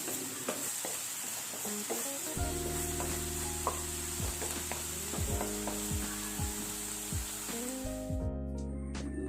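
Onions and prawn masala for Kannur-style prawn kalmaas sizzle in a pan while a spoon stirs and scrapes in repeated strokes, close and fairly loud, with a faint mechanical whir ending it.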